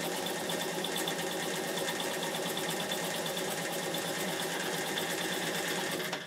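A Bernina 840 sewing machine stitches in reverse, a steady, continuous mechanical whir with a fast rhythmic needle clatter that stays loud and even throughout, then cuts off at the very end.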